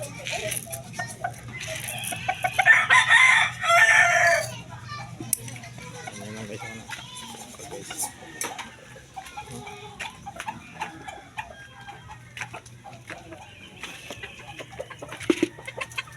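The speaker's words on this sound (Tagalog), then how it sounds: "Ulit itong manoka guys." A rooster crows once near the start, followed by scattered clucks and bird calls over faint background voices and activity.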